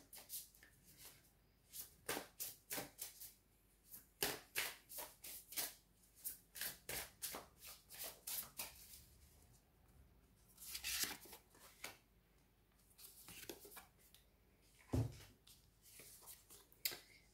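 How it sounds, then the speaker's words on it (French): Tarot cards being shuffled and drawn during a French reading, a quiet run of rapid papery riffles and soft flicks in bursts, close up with no talking. "on va prendre 2 cartes supplémentaires"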